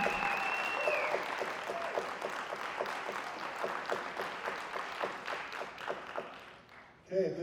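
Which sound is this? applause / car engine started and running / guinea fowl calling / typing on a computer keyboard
applause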